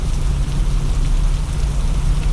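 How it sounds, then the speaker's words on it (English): Heavy rain pours down in a dense, unbroken hiss, loud and close, with a low rumbling undertone throughout. "it is really pouring"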